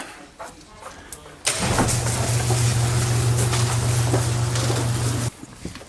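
Porsche GT4 fitted with a Soul Performance valved exhaust and no catalytic converters starts up and settles into a loud, steady idle, a continuous close drone lasting several seconds before cutting off.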